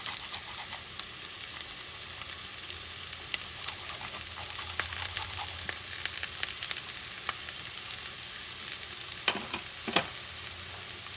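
Sofrito frying and being stirred in a pan for Puerto Rican rice with calamari, a steady close sizzle with spoon scrapes and clinks throughout, no talking.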